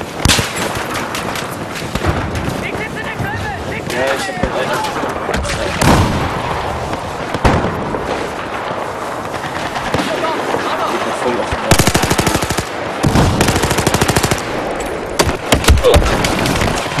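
Dense, rapid automatic gunfire and shots from the Battlefield 4 multiplayer video game, Rush mode on the Paracel map, with booms and explosions rattling on continuously and loudly throughout.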